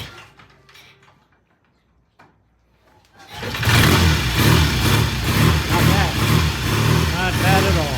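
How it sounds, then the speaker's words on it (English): A Triumph T100 motorcycle, cold after sitting three or four days, fires up on its electric starter after a quiet lead-in with faint handling sounds, then settles into a loud, steady, pulsing idle up close. "this is a reasonably cold start"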